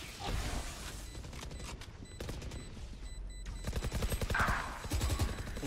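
Gunfire in the Valorant shooter game rattles in rapid automatic bursts, with clusters of sharp shots across the clip and a louder spray near the end, mixed with game sounds.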